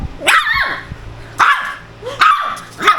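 A pet dog barks nearby in a domestic setting, four sharp barks spaced at uneven intervals, loud and close with no voices over them.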